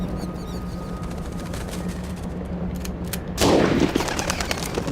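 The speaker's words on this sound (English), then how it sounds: "a gunshot will work like a charm" A single gunshot in the video game Jack Keane 2, a sharp loud crack arriving after a few seconds of quiet ambience and leaving a brief noisy tail.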